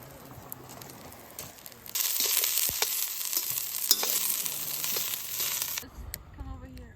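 Broccoli washed up on the beach cooks over an open fire on Great Barrier Island, giving a steady loud sizzle and crackle for several seconds before it drops away, with faint outdoor noise underneath.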